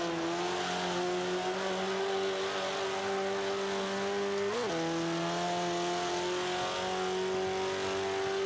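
A car engine in the racing game Forza 5 drones at a steady high pitch, dips briefly at a gear change and climbs again, loud and continuous with no talking.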